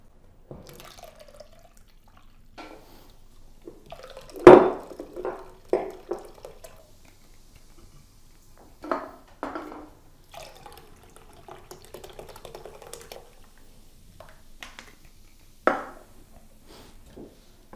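Beer poured into a pot while making a Christmas wassail, heard as intermittent splashing and glugging bursts with quiet dripping between them, close by with no talking.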